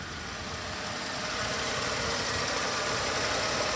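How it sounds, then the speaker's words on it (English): A 1995 Mercedes-Benz E320 wagon idles smoothly with a steady, even engine rumble close by, building slightly at the start and then holding constant with no voices. "she starts right up. Nice smooth idle, no smoke."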